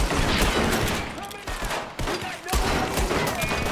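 Rapid gunfire erupts during a train robbery in Red Dead Redemption 2, with dense overlapping shots and bursts filling the whole stretch, loud and close, briefly thinning before resuming.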